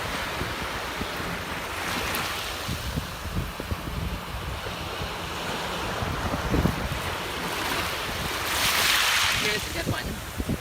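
Ocean waves break and wash onto an East Coast shelling beach with wind buffeting the microphone, a steady roar of surf that swells to a louder crash near the end.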